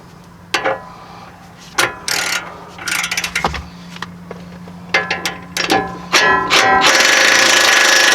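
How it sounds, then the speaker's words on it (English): Ratchet wrench clicking in repeated bursts while torquing bolts on a Nissan Titan lower control arm, close and sharp, ending in a sustained rattling mechanical whir. "We can torque our bolts down"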